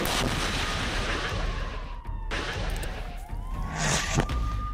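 Test firing of a Kornet anti-tank missile in eastern Donbas, a loud roaring blast with a rushing, whining tone that sweeps and trails off, broken by sharp cuts.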